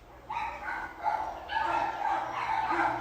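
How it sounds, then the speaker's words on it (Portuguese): A dog barks several times in quick bursts out on a city street, moderately close, over a low steady background hum. "é cachorro, é propaganda na rua"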